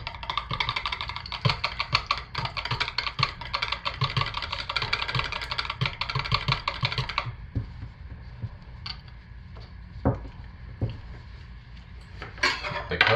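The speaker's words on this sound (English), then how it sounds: "Go ahead and stir it in while I get my white blended up." Soap batter being stirred in a container, a busy stretch of rapid scraping and clinking up close, then fainter scattered taps and knocks.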